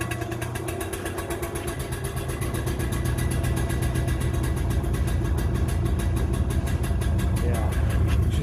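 A small two-stroke engine idles with a fast, even, rattling putter, loud and close, holding steady throughout with no rev changes.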